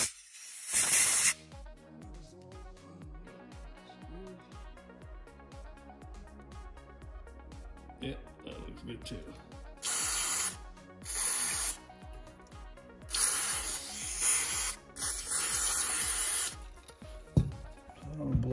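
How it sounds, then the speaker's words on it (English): Compressed air from a small compressor blasts over carburetor parts from a 1985 Honda XL250R dual-carburetor setup, in several loud, close hissing bursts of varying length separated by quieter gaps. "I'm gonna blow some compressed air here."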